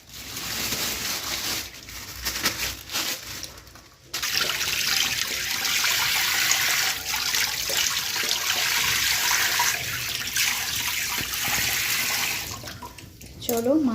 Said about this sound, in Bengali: চলো মাছগুলোকে এখন ধুয়ে নিই ভালো করে।